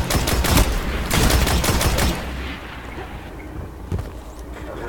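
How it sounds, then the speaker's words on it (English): Destiny video game auto rifle gunfire, rapid dense bursts of shots loud and close for about two seconds, then sparser, quieter shots and game ambience. "He's using an auto rifle at my range."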